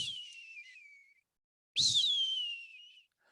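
A person whistles by mouth while shifting the tongue, producing two long, clear, bending whistled notes that slide downward, separated by a brief silence, loud and close, imitating a bird call.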